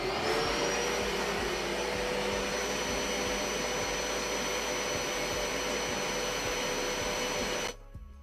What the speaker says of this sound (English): And then you turn the vacuum on.